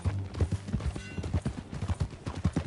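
Horse hooves clip-clop at a steady walking rhythm in the Red Dead Redemption 2 game, fairly close and clear, with faint game ambience beneath.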